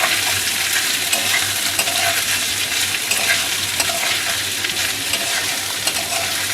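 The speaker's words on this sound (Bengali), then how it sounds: "এবার এটাকে এর সাথে ভালো করে নেড়ে চেড়ে ভেজে নেব।" Soaked rice for Basanti pulao is stirred and fried in a pan on a home stove, giving a steady close sizzle with scraping strokes of the spoon throughout.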